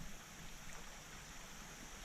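River water rushes steadily through small rapids on the Current River in the Missouri Ozarks near Eminence, a constant broadband wash heard close with no talk.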